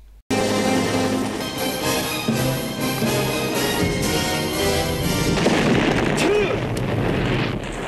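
Explosions and gunfire in a battle scene from a First Blood (Rambo) sequel film, heavy booms and bursts layered over a loud, continuous orchestral soundtrack, with the dense mix easing slightly near the end.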